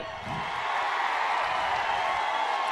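A crowd at a political rally in Uravakonda, Anantapur district, claps together in a dense, sustained wash of applause. It stays loud and even from start to finish, with a brief murmur at the very beginning.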